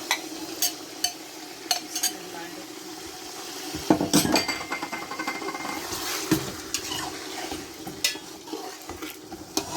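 Chicken and salt are mixed in a pot, with repeated scraping and stirring knocks and metal clinks over a soft sizzle. No one speaks.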